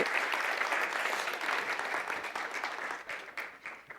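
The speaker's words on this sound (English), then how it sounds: "Give her another round of applause." Applause from an audience at a graduate three-minute thesis competition, a dense burst of clapping that starts strong and slowly thins and fades over four seconds.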